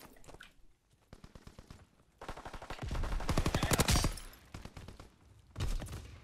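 Mounted turret machine gun in Call of Duty WW2 firing in long rapid bursts, loud and close, with short pauses between volleys and a final burst near the end.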